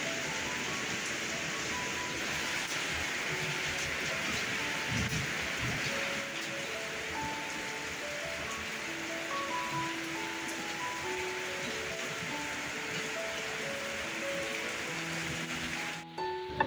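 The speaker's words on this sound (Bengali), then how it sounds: "এখন দেখো এই যে খুব জোরে মেঘ ডাকছে, বিদ্যুৎ দিচ্ছে আর বৃষ্টি নামিয়ে দিয়েছে।" Heavy rain pours steadily on surfaces, a dense constant hiss that lasts throughout at an even loudness, with no clear thunder cracks standing out.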